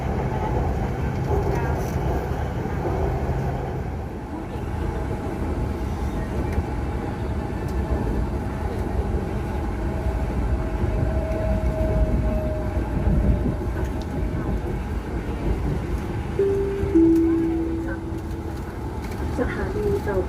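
Bangkok metro train running toward Tao Poon station, a loud continuous rumble and rolling drone of the carriage with tonal whines, heard from inside under a recorded announcement voice.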